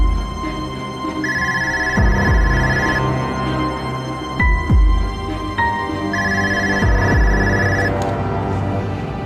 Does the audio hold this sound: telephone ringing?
yes